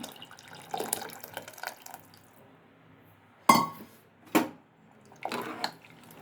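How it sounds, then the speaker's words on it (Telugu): Tamarind water splashes softly into a pot for sambar, with two sharp clinks from a vessel and a short trickling pour near the end. "ఇది చింతపండు నీళ్లు పోసేసుకుంటున్నాను"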